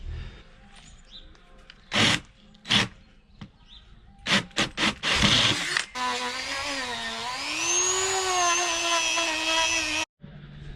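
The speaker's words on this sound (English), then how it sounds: "So yeah, let's get some sanding done." Power sander working fiberglass on a sailboat hull, starting with several short bursts of rubbing and grinding, then settling into a long, steady, loud whining run that rises slightly in pitch before cutting off abruptly.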